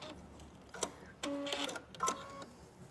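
A sewing machine stitching ribbon trim onto a top, in short mechanical whirring bursts with clicks between them, close and moderately loud.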